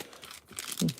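Scissors snipping open a sealed Pokémon trading card pack during a live card break, a short crinkling plastic cut with a brief crunchy tear near the end, close and fairly quiet.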